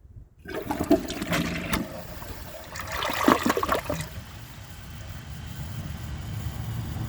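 A Delta Turner toilet flushes a folded-up bag, starting with a loud close rush of water that surges again midway, then settles into a long, weaker trickle and gurgle as the flush struggles down the pipe.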